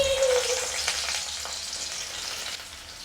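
Onions drop into hot coconut oil in a pan. A loud, close hiss and sizzle erupts at first, then settles into steady, slightly quieter frying crackle.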